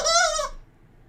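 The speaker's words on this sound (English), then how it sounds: "These chickens, what are you doing? Oh, they just woke up." A chicken gives a short, loud, strained call of about half a second, then quiet room sound follows.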